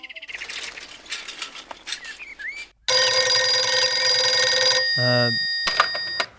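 Telephone ringing in a scene from a Hindi-dubbed South Indian action film: a loud, sustained electronic ring that cuts in after bird chirps and movie effects, then breaks off into more chirping.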